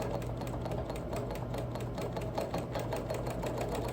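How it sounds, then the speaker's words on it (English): Sewing machine stitching dense background quilting on a wool appliqué, a steady fast mechanical whir that runs unbroken and fairly quiet throughout. "I can go ahead and do some little dense background quilting as long as I'm in this space."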